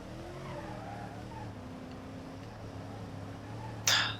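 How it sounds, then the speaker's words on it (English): A truck driven in the video game BeamNG.drive gives a steady, low engine drone with shifting pitch, then ends in a short, sharp burst of tire skid noise. "I'm just driving a truck, really."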